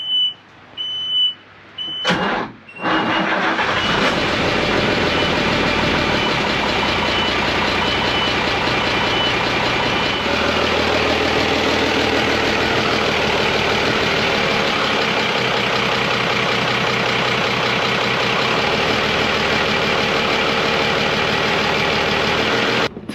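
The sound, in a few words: boat engine running in neutral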